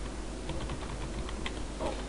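Fingers type on a computer keyboard while an IP address is entered on an Ubuntu desktop, giving a quiet, steady patter of close key clicks over a low background hum, with no talking.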